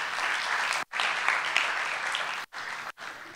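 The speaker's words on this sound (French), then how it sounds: "qu'on peut applaudir, bien évidemment" An audience at a hip hop event gives a Palestinian rapper a lively round of clapping, loud and even, with a few brief breaks in the sound.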